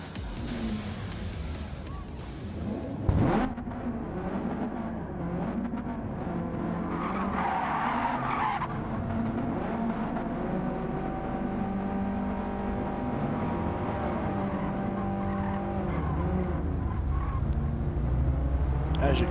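Race cars in a racing video game piling up at the race start, tires skidding and squealing over loud, continuous engine roar, with a short thud early on and a voice talking underneath.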